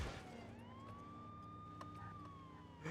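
A police siren from the video game True Crime: New York City wails in a single rising, sustained tone, moderately loud over a low background rumble, with no talk.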